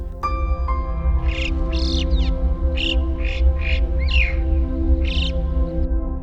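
Birds call in a high mountain habitat said to hold great rosefinches, wallcreepers and alpine choughs, giving several bright, raspy notes in an irregular series over steady low wind and a drone.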